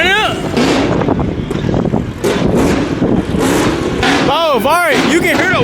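Car engine revving with a whine at a big car meet, loud repeated revs with rising and falling whining pitch sweeps, heard from some distance amid crowd noise and people talking over it.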